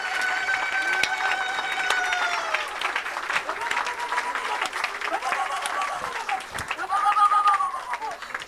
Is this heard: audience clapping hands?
yes